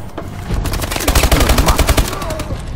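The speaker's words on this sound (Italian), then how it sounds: "Piovono granate peggio dei meteoriti sulla luna." Grenade blasts and rapid gunfire fill a first-person shooter match, loud bursts of shots and booms crowding together with a voice speaking over the battle.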